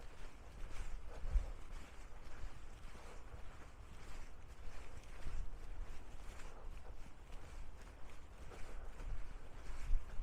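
Wind buffets across an exposed South Downs hilltop, a continuous rumbling roar with gusty swells and occasional hard thumps against the microphone, steady and loud from start to finish.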